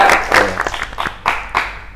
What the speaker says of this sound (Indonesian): Nggak mau tepuk tangan nih